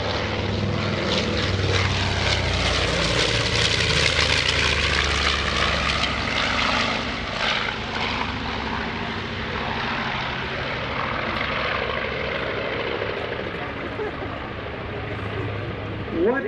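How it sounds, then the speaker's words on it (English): Propeller engines of a B-25 Mitchell bomber at an airshow drone loudly and steadily overhead, a deep rumbling roar that slowly fades slightly as the plane passes. "What is there not to like about the sound of that airplane?"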